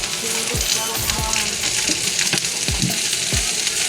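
Asparagus sizzles in olive oil in a pan beside steak tips, a loud close frying hiss with occasional scraping knocks as the spears are moved around.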